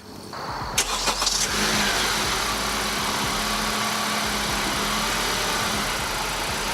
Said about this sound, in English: All right, let's do it. We go for a test drive.